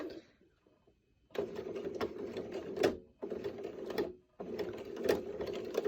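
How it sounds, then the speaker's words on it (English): A domestic sewing machine stitches through thick flannel layers, running in three close, steady, whirring bursts with brief stops between them after a quiet start. "Just go really slow because it's a lot of thick layers, especially since I decided to use that flannel."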